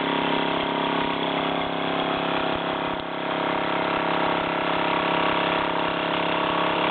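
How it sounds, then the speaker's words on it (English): A Luton Bowman PW203 toy steam engine running in steam, giving a close, steady mechanical chuffing drone that holds evenly throughout without pause. "So there you have it, Luton Bowman PW203 in steam"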